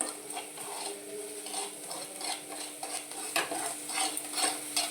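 A spoon scrapes and stirs fried rice ingredients with tomato in oil in a kadhai, making steady rhythmic metallic scraping over a soft sizzle, close and unhurried.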